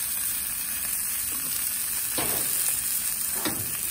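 Shrimp sizzle in bacon grease on a Big Green Egg ceramic grill beside a filet mignon, a steady close crackle with a couple of brief louder spurts.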